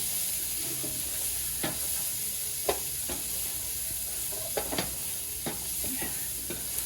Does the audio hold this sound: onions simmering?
yes